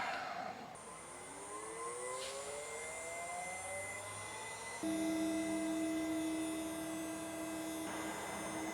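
A CNC spindle making the first cut on a boat build whines steadily, with pitch rising as it spins up and then holding a high, sustained tone under a broadband hiss of cutting; no speech.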